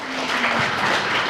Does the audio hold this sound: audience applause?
yes